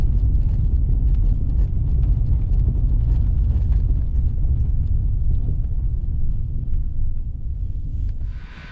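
Car on Toyo Celsius all-weather tires braking from 40 km/h, a loud steady road rumble with wind buffeting that fades as the car slows to a stop.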